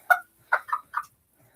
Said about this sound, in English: Here's the chicken.